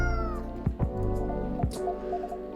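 A cat in the video game Coffee Talk 2 gives a few short, clear meows at close range over soft background game music.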